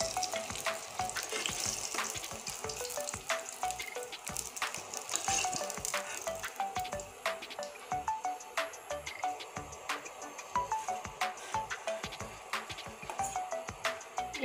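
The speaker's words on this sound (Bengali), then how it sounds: "এই দেখুন মাছটা আমি লাল লাল করে ভেজে নিয়েছি" Pieces of rohu fish frying red-brown in hot oil, a steady dense crackle with scattered sharp pops and the clink of a utensil, close and fairly quiet with no talking.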